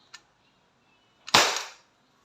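An Umarex Glock 17 Gen 5 CO2 pistol firing 4.5mm steel BBs gives one sharp, loud pop with a short hissing tail, preceded by a small click.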